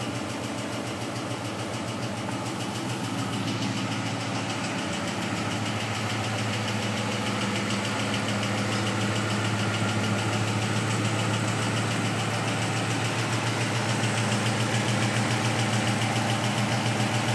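A freshly swapped Ford Coyote V8 idles steadily in a 1990 Mustang GT at its first start-up, a close, loud, even rumble with faint ticking and vibration throughout and no talking.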